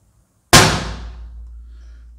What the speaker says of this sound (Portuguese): Tô atirando aqui a 30 metros.